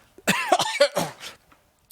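A brief close-up coughing fit during a metal podcast recording: a few sharp, harsh coughs in quick succession, then quiet.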